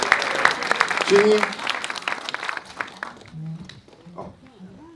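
A crowd claps for young volunteers at an event in London, the applause dense and loud for about three seconds before thinning out as voices talk over it.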